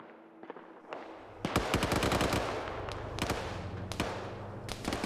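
Machine gun fire from a military video game rooftop firefight: quiet at first, then sustained rapid automatic bursts with sharp repeated cracks, fairly loud and continuous, with no talking.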